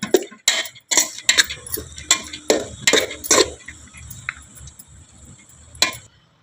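Masala rice is mixed with tempering in a pan: a run of sharp metal scrapes and clinks from a spoon against the pan, quickening then thinning out into quieter stirring, close and with no talk.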